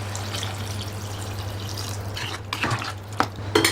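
Water is poured into a pot of eggplant dal cooking with tomato and tamarind, a soft steady wash followed by a few clinks and scrapes of a utensil against the pot.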